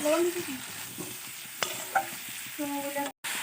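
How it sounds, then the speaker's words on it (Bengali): Spices with turmeric, chilli and cumin powder fry in a pan, a close sizzle with scraping stirs and clinks, interrupted by a brief total silence near the end before the frying resumes. "এবার দেব নুন দিয়ে ভালো করে ফ্রাই করে নেব"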